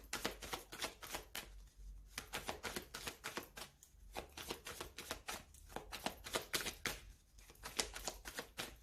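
A deck of oracle cards is handled and cut, a quiet, close run of quick riffling flicks and soft slaps in rapid irregular bursts with brief pauses, with no speech.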